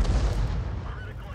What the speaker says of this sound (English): a 105 millimeter artillery round, should do tremendous damage to the enemy